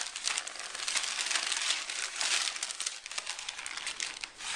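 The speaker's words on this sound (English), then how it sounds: "And then we're going to wrap the stem first." Packing paper crinkles and rustles as it is wound around the stem of a wine glass, with steady close crackling throughout and a brief dip near the end.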